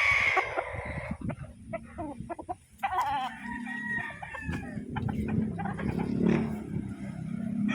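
A five-month-old Gilmore cross gamefowl rooster clucks and crows close by in a series of loud, repeated calls, with other fowl sounding faintly around it.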